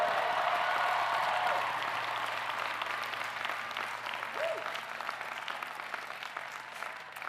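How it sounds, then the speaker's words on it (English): A large crowd at a Washington University commencement ceremony applauds first-generation graduates, a broad wash of clapping that starts full and gradually thins and fades over several seconds. "get a round of applause for our first generation graduates"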